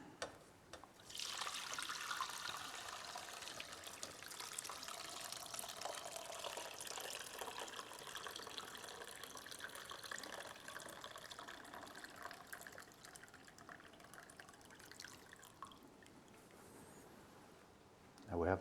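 Homemade vegetable stock poured steadily through a pasta strainer and fine sieve, a continuous liquid splashing and trickling that runs close and fairly loud for about fifteen seconds before stopping.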